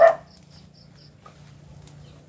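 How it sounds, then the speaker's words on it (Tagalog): A single short dog bark at the very start, fairly close, followed by quiet outdoor ambience with faint chirps. "May aso."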